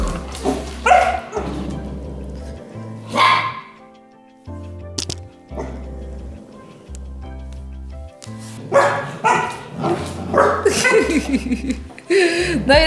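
Golden retrievers bark and yip in short, close bursts while being played with using grooming brushes. People talk and laugh throughout, and a low repeated thumping runs under the scene.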